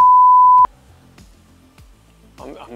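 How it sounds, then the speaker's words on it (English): A single loud, steady censor beep lasts about half a second at the start, followed by quiet background and brief talking near the end. "You're gonna beep that out"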